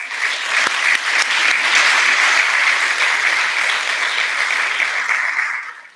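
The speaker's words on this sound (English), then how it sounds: "If you would, join me a round of applause for these gentlemen." A crowd at a graduation ceremony claps steadily for several seconds, a dense, even wash of applause that fades slightly at the end.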